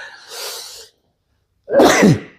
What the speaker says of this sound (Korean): 재채기 좀 하고요.